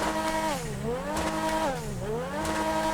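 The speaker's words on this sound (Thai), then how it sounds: "เร่งเครื่องก่อนโอ้ชอบเสียงเครื่องมากเลย" Grotti X80 supercar engine in GTA 5 Online revving repeatedly, pitch sweeping up and down in several rising and falling pulls, loud and close with no talk.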